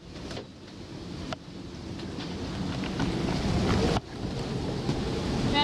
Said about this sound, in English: Bit of a squall here.